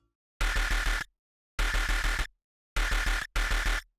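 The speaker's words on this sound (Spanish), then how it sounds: "El primer bass suena así." Distorted midtempo bass synth playing four gritty, buzzing bursts with silent gaps between them, each burst pulsing rhythmically and loud, heard alone.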